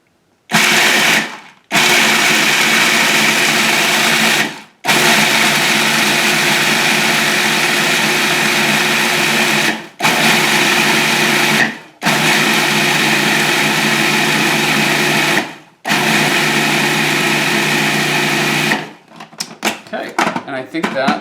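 Almonds are ground in a food processor in repeated pulses, each run a loud, steady whir lasting a few seconds before cutting off, with about six bursts separated by short pauses.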